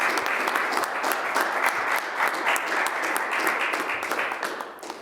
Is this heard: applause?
yes